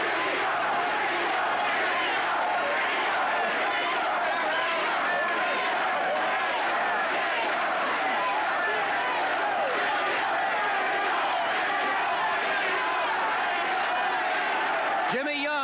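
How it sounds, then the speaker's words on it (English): Boxing crowd in an Atlantic City arena chanting a fighter's name for the underdog heavyweight, a dense, sustained roar of voices rising and falling steadily throughout, loud and continuous. "the crowd here in Atlantic City going for the underdog. They're chanting Jimmy Young's name"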